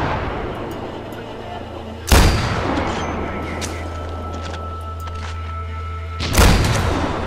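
Two heavy mortar blasts in Far Cry 4 land a few seconds apart, each a loud sudden boom with a rumbling decay, over constant low engine-like drone and background game noise.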